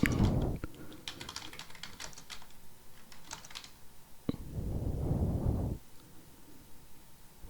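Quick bursts of computer keyboard typing enter a terminal install command, clicking in two short flurries with a pause between, close and fairly quiet.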